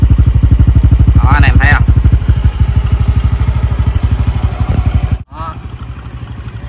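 A rebuilt Honda Wave Thai 110 motorcycle engine idles close by with a steady rapid putter and light clatter, dipping briefly near the end, while someone talks over it.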